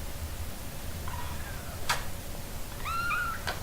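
A house cat meows twice near a door, once softly and then a longer, clearer meow, over a steady background hum.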